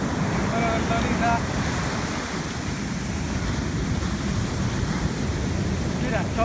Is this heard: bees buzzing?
no